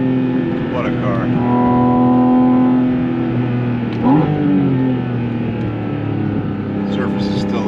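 A Porsche Spyder RS engine drones loud and close as the car accelerates on a damp Blue Ridge mountain road, its pitch climbing and dipping through gear changes.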